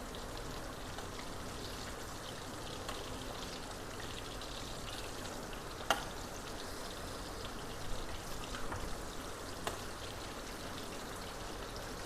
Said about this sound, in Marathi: आता आमी हे परतून घेतात.